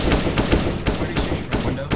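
Rapid automatic gunfire in CS:GO, a run of close, punchy bursts firing in quick rhythm for about two seconds.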